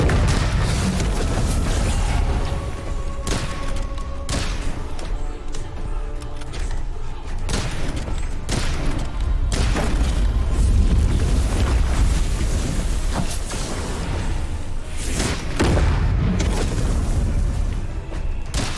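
Heavy machine gun fire in the video game Witchfire, loud and sustained with booming bursts and dense clatter over a rumbling low end, with no talk.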